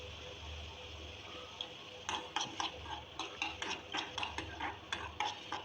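Onion, ginger and garlic being stirred in a pan, a run of quick, rhythmic spatula scrapes and taps over a faint background hiss, quiet at first and then steady.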